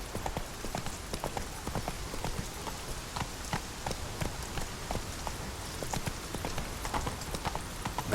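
Roach the horse's hooves clip-clop in a steady, even trot in The Witcher 3, a continuous run of close, crisp hoofbeats on hard ground with a light rain-like patter behind them.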